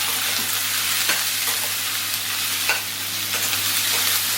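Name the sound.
tomatoes and cashews frying in oil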